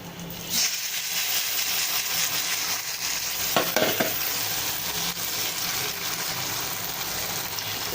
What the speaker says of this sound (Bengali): আমি এখন এটাকে ভোনা ভোনা করে নামিয়ে নেব লতিটা দিয়ে